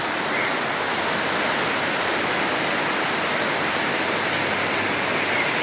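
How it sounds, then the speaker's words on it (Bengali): Heavy rain pours down in a dense, steady roar with no breaks, loud and close, with nothing else standing out above it. "প্রচন্ড বৃষ্টি নেমে গেছে।"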